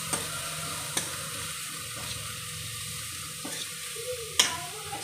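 Cooked horse gram is stirred in a frying pan for a palya side dish, giving a faint, steady sizzle with a few sharp spoon scrapes and clicks against the pan.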